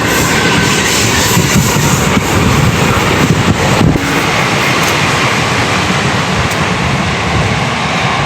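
Train rolling along the rails at a station in Devhat, a steady loud rumble with faint clickety-clack and wind buffeting the microphone throughout.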